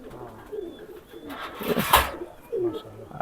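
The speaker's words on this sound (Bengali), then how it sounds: "এই দুইটা হচ্ছে আমার সালারা মেন টেডি কবুতর।" Pakistani highflyer Teddy pigeons coo softly in a loft, low repeated coos mixed with rustling and a brief louder flurry in the middle, faint voices in the background.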